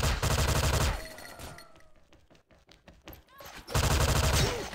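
Video game gunfire from a Gold Kris SV-CRB: loud rapid automatic bursts open and close the moment, with a quieter gap of scattered shots, clicks and movement between them.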